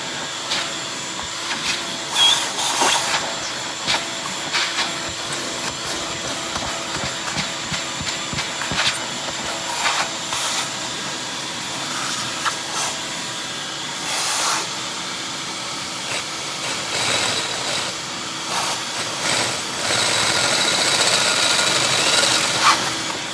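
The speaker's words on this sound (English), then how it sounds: "I'm going to get the drill, get the vacuum going." A shop vacuum runs in a garage during engine assembly work on a 1951 Buick Special, a loud steady whine with hissing airflow and occasional clatter of tools. It grows louder toward the end, with no talk over it.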